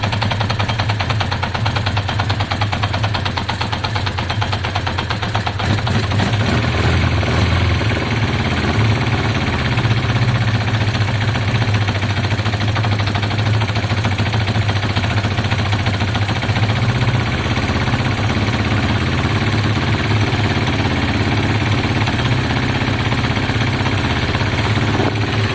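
A Kawasaki ZL600 motorcycle with a coolant leak idles while warming up, its engine a loud, close, steady rapid chugging that runs without a break.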